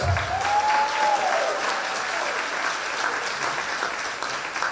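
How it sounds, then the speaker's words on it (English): An audience at a Washington, DC tourism strategy unveiling claps spontaneously after a new foundation name is announced, a moderate, even spread of applause in a large room, gently fading toward the end. "You guys are easy, you just clap automatically"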